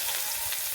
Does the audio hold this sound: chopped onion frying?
yes